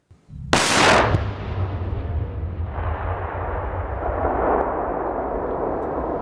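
A FAB-500 aerial bomb strikes an ammunition depot near Avdiivka: one sudden heavy blast rolls into a long rumbling roar that keeps going, with a second swell of rumble a few seconds later, loud and distant.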